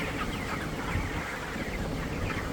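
A flock of broiler chickens packed in a poultry farm during extreme heat, their dense, rapid clucking and breathy chatter forming a continuous close wash of sound with no talking.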